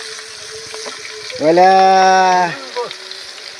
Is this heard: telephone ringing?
no